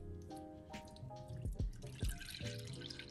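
Milk pours into a bowl for homemade bread dough with soft splashing and a few drip-like plops, while faint background tones hum behind it.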